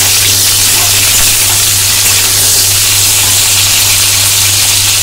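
Chopped tomato and vegetable stalks fry together in oil for a fish curry, producing a loud, dense, unbroken sizzle up close, with a low electrical hum underneath.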